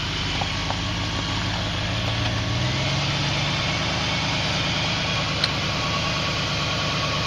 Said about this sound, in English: Oh, that thing sounds nice, dude. Oh, that's a strong motor.